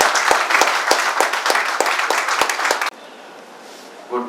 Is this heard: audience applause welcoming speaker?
yes